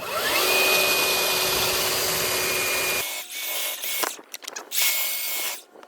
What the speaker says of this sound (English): I'm just gonna belt sand it to fit there